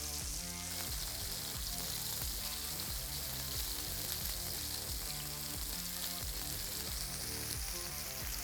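Chicken picatta meatballs sizzle and fry steadily in a hot pan, a constant loud hiss of browning with music playing underneath throughout.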